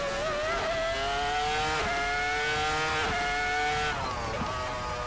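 A V10 engine in a futuristic 2025 Formula 1 car howls around Monza in a racing video game, high-pitched and loud, rising through the revs with sharp gear shifts roughly every second.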